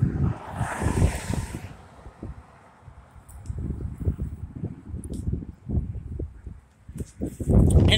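Dust storm wind in Odessa, Texas, blowing in uneven gusts that buffet the microphone with heavy low rumbling, rising and falling over several seconds.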